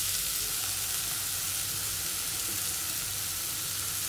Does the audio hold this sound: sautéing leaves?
yes